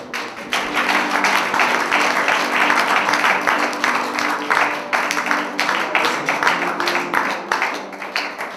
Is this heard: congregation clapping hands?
yes